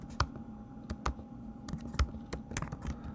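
Keystrokes tapped on a computer keyboard, scattered irregular clicks with short pauses between them, close and fairly quiet over a low steady hum.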